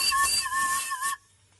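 Steam hisses and whistles from a Maxitrak 7 1/4 inch Forney model steam locomotive, a steady bright rush with a tonal whistle lasting about a second before cutting off abruptly.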